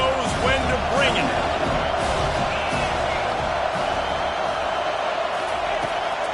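A stadium crowd roars steadily throughout a Utah versus Michigan college football game, a dense wash of cheering and shouts with a play-by-play announcer talking over it.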